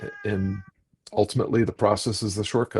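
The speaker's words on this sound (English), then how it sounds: "That's a cat who decided to come and yell next to me now for some reason." A cat yowls loudly right nearby, a drawn-out wailing meow at the start, followed by a person talking.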